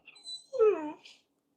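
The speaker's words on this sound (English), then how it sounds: "That's my dog." A dog gives a short, close, high whimper that rises into a brief whining moan and then fades, heard alone in a quiet room.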